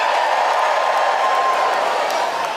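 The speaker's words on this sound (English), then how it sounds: "Who's over 40 here, by way of a cheer?" Comedy show audience responding with a sustained crowd cheer, broad and steady noise filling the room, loud throughout with no clear individual voices.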